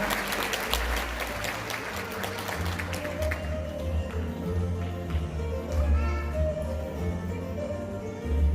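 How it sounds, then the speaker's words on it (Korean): Sustained applause from an audience at an award ceremony for World Day celebrations, broad steady clapping that fills the room without pause, with a low background hum underneath. "네, 여러분들 힘찬 박수 좀 부탁드리겠습니다"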